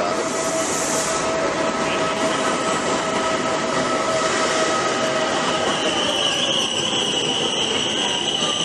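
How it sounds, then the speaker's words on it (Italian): A passenger train pulls into Riccione station in Italy, with a constant loud rumble of wheels on rails, high screeching brake and wheel squeal near the start, and whining tones as it slows alongside the platform. "Il nostro treno dopo 5 minuti di ritardo è arrivato."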